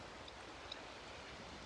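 Water flows steadily beside an outdoor altar, a soft, even rush with a faint bird chirp or two and nothing else intruding.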